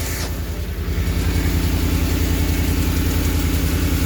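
A Ford F-150 5.0 V8 idles steadily after belt and oil pressure switch work, a loud, even, close-up engine drone with a smooth low rumble and constant pulse throughout.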